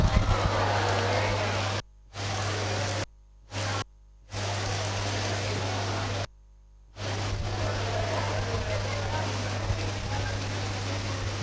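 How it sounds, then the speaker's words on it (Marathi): Rain falls outside during a classroom lecture, a steady broadband hiss broken by a few short silent gaps. "बाहेर जाऊन काही फायद्याचं नाही, पाऊस आहे सगळा."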